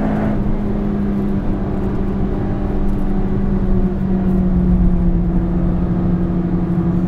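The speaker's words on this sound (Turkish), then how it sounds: "Gaza dokunduğun anda başlıyor içeri çekmeye ya" Toyota Yaris GRMN hot hatch with a 212 hp engine accelerating hard on a track straight, a steady loud engine drone with rising harmonic tones heard from inside the cabin, no talking.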